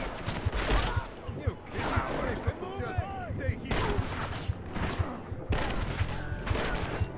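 Rifle gunfire in Deus Ex: Mankind Divided, a fight with repeated sharp shots and bursts spread through the clip, mixed with game effects while a voice talks over it.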